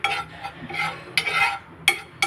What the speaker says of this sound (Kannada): ಎರಡನ್ನೂ ಮಿಕ್ಸ್ ಮಾಡಿಕೊಂಡು ಈಗ ಮತ್ತೆ ಇನ್ನೊಂದು ಸಲ ಎರಡನ್ನೂ ಸೇರಿಸಿ ಹುರ್ಕೊಳ್ತಾ ಇದ್ದೀವಿ